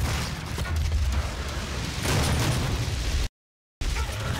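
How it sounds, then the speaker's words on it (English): Rocket launcher explosions from the video game Doom 2016, a dense, loud run of booming blasts and bursts with heavy low rumble, broken by a brief dropout near the end before the din resumes. "Maybe something like the rocket launcher."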